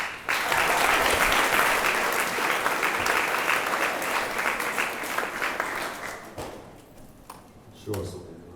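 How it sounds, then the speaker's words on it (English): Audience applause at a school awards ceremony swells loud and dense for several seconds, then thins and fades out, followed by a few scattered thuds and faint room noise. "let's applaud between them"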